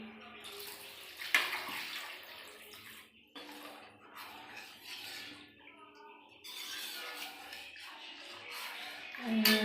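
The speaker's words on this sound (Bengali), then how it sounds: "এই জল দেবো এই জল দিয়ে দিই" Water poured from a vessel into a cooking pot containing turmeric, making a splashing, gurgling flow that rises and falls over several seconds, with faint bird chirps in the background and a short rattle at the end.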